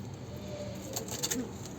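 Soft, low pigeon-like cooing murmurs steadily beneath faint background noise, with a few brief higher chirps near the end.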